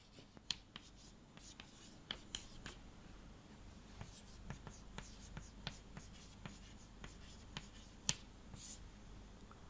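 Chalk or marker scratching and tapping on a classroom board during a Hindi-medium chemistry lesson, heard as sparse, irregular sharp strokes over a low, steady room hum.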